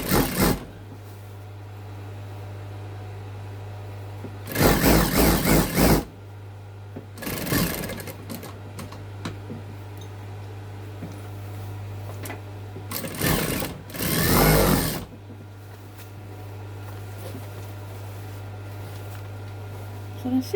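A sewing machine stitches a zip into a garden seat pad in several short, loud bursts of rapid mechanical running, separated by stretches of a low steady hum from the idling machine.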